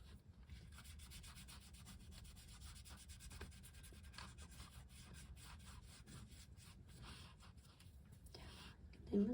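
Soft rubbing of oil pastel being blended with vaseline across paper, a continuous faint scratchy swishing, close up and quiet, with no talking.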